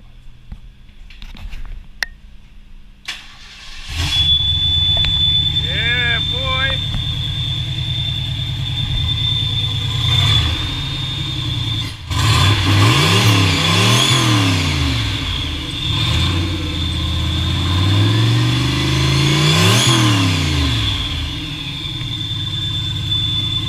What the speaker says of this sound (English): He's about to start up the estimated 500 horsepower